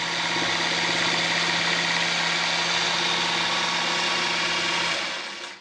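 A Voyager longarm quilting machine stitches steadily while basting down the edge of a winter solstice quilt. The motor's drone holds continuous and close, then winds down at the very end.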